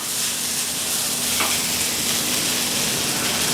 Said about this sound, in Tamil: இந்த சிக்கனை இதில் போட்டு ஒரு தடவை நான் சூடு பண்ணிக்க போகிறேன்